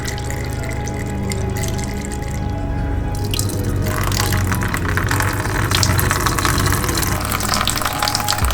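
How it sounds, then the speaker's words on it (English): Water running out of a rear panoramic sunroof drain tube on a 958 Porsche Cayenne during a drain test, a loud continuous gushing and dripping stream close by that grows fuller and stronger partway through. "So when I pour water in the top, I'll also be able to see if water's running down the outside of this."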